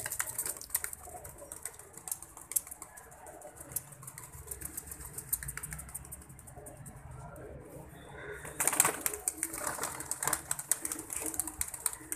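Outdoor ambience with soft pigeon cooing and occasional wing flutters as pigeons sit in the sun, a burst of louder activity near the end, steady background noise throughout.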